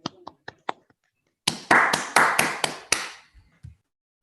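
Participants in an online meeting clap over their microphones: a few light, sparse taps, then a short burst of several louder overlapping claps that stops quickly.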